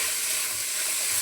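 Onions being fried in a pan give off a steady, continuous sizzle with a bright hiss throughout, fairly close and with no talking.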